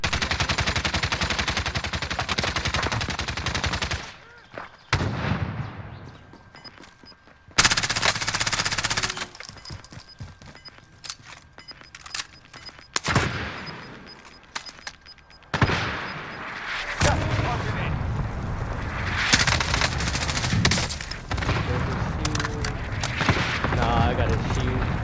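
Call of Duty: Warzone gunfire comes as loud sustained automatic bursts and booming shots, broken by short quieter gaps, with a player's voice talking over the game audio.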